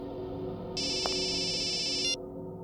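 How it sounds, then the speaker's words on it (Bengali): A phone ringtone sounds for about a second and a half, a bright electronic warbling tone rising over a steady background hum, close and clear, then cutting off. "বস, আপনার ফোন।"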